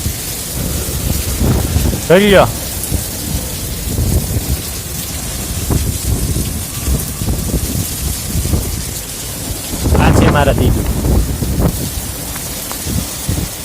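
A thunderstorm with heavy rain, a dense steady roar of rainfall broken by two loud rumbling thunderclaps, with a person talking over the downpour throughout.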